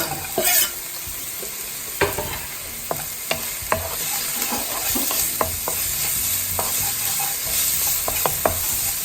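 Onions just added to a pan for chicken fried rice sizzle loudly while a utensil stirs them, with sharp, irregular spatula taps and scrapes standing out over the steady frying hiss.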